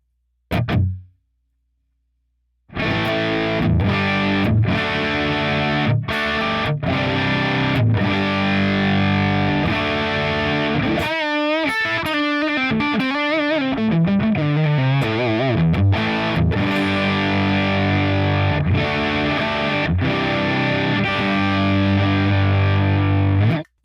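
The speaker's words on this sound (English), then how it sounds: "let me turn off the overdrive and then play just the amp" A distorted electric guitar through a modeled amp in a Line 6 Helix, overdrive off, plays chords and single notes, sustained and loud, with a brief pick sound before a short pause at the start.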